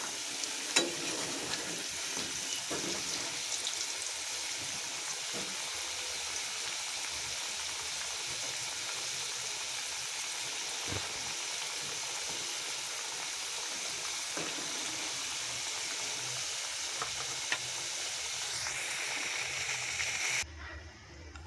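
Potatoes frying in a pan of oil during home cooking, a steady close sizzle and crackle that runs continuously with occasional small pops and stirring clicks.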